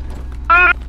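A train being driven in the survival game Rust: a low, steady rumble runs throughout, with a short, bright, tonal horn-like blast about halfway through.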